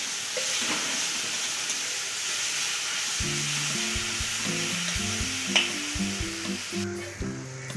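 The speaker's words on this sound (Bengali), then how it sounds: "মশলা খুব ভালো কষানো হয়ে গেছে, মশলা থেকে তেল ছেড়ে দিয়েছে।" Spice paste frying and being stirred in hot oil in a pan while cooking a fish roe fritter curry, a steady close sizzle with spoon scrapes, later joined by a faint tonal hum.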